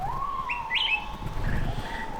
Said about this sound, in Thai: ตอนนี้เจอนกอะไรบางอย่างอะทุกคน แต่ว่าตอนนี้ได้แค่เสียง